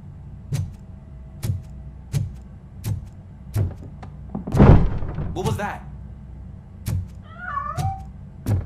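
A cat in the video game Robocop: Rogue City lets out a short meow near the end, following a series of regular heavy footstep thuds and a brief mechanical whir.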